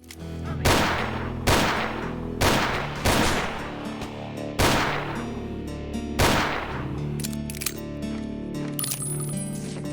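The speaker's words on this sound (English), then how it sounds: "I especially came to fancy the sound of the revolver." Revolver shots in a boomer shooter game: about six loud, close, booming reports, spaced roughly a second apart, each with a ringing tail, then a quieter stretch.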